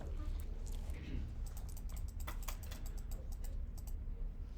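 Keyboard typing while entering x squared into a calculator table, a run of quick light key clicks over a steady low background hum, fairly quiet and close with no voices.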